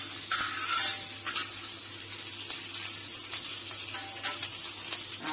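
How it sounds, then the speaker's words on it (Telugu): Green chilli pieces fry in a pan with a steady, close sizzle and occasional stirring scrapes, heard on its own without any voices. "తర్వాత మనం చూడండి పచ్చిమిర్చి వేసుకుంటున్నాం. ఇవి పచ్చిమిర్చి ముక్కలు."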